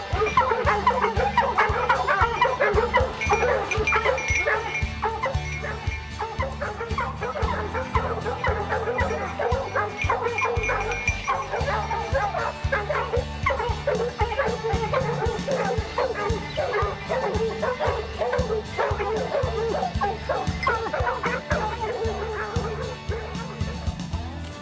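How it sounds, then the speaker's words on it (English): A pack of bear hunting dogs bays and yips loudly and without letup on a fresh track outdoors, their overlapping barks and howls nearby and filling the whole stretch. "The dogs hit a fresh track and the race is on."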